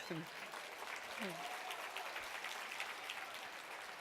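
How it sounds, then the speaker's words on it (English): An audience at a women leaders' national convention keynote breaks into a dense burst of clapping that lasts the whole short moment, with a few voices mixed in. "Give yourselves a round of applause."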